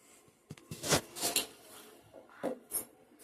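A metal spoon stirs sugar into milky coffee in a cup, a few quick clinks and scrapes against the sides in short bursts, close and fairly quiet.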